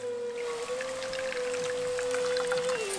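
Dissolved tamarind water poured into ground masala with turmeric for a veg fish curry, a steady close liquid pour and trickle with a faint hum beneath, continuous for the whole stretch.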